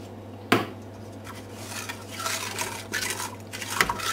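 A spoon scrapes and clinks around a pan of sugar and golden syrup for flapjacks, a sharp knock at the start followed by soft, uneven stirring strokes with a few quieter clatters.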